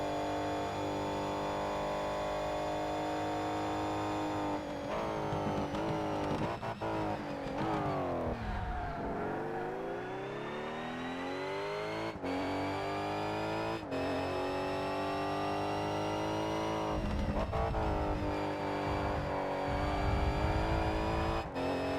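A GT race car engine in ToCA Race Driver 3 drones and revs through laps of a track, its pitch rising and falling steadily through gear shifts and corners, loud and continuous with no voices.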